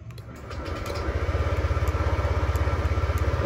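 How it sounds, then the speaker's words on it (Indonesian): A Honda Vario 125 scooter, just repaired after a total starter failure, catches and settles into a fast, even idle. Close, loud engine pulses throb steadily right after start-up. "Dan motor pun langsung hidup."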